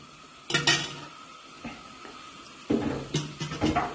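Washed chicken pieces go into a pan of hot oil with fried onions, bringing clattering pan and utensil knocks in bursts, a faint sizzle beneath, and quiet gaps between.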